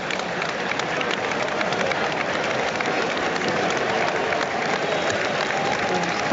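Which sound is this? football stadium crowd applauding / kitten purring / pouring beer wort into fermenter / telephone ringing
football stadium crowd applauding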